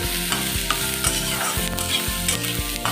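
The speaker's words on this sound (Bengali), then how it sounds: "এখন লাল লাল করে ভেজে নিচ্ছি।" Bitter gourd, potato and eggplant with onion, turmeric and salt fry in a pan, giving a loud, continuous close-up sizzle. Regular scraping strokes of stirring roughly every half second sit over a faint tonal background, and no one speaks.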